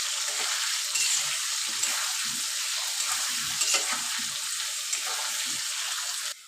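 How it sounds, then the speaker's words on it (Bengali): Cut potatoes sizzle in hot mustard oil with salt and turmeric, a loud, steady frying hiss close by, with soft stirring scrapes and occasional pops throughout, cutting off abruptly at the end. "এবার সরিষার তেলটা গরম হয়েছে তারপরে কেটে রাখা আলু দিয়ে ভালোভাবে ভেজে নিব"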